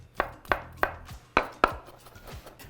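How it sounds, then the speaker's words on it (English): Knife mincing garlic on a cutting board for vegetarian chili: five crisp, close chops at uneven intervals, then a few softer taps, with no talk. "Next thing we're gonna do is mince up the garlic."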